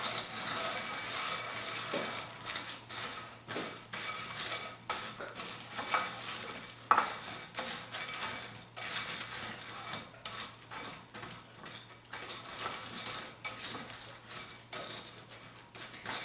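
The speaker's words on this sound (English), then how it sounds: "Now you need to stir it for exactly 30 seconds." A spoon stirs and scrapes food around in a dish just out of the microwave, with repeated close scraping and clinking strokes throughout.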